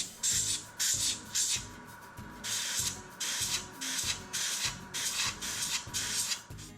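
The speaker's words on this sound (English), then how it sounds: "I start with the Light Rust, which I spray on in very light coats." Airbrush spraying light rust weathering in very light coats onto a Tamiya 1/48 Spitfire Mk. 1 model, a series of short hissing bursts with brief pauses between them, close and clear, with no talk.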